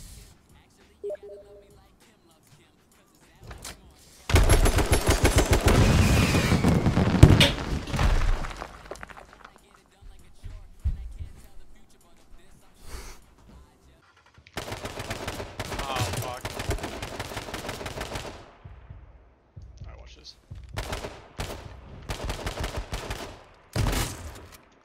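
Close-range shotgun blasts in the survival shooter H1Z1, several loud bursts of heavy firing that come in dense clusters separated by short quiet gaps, with a faint voice underneath at times.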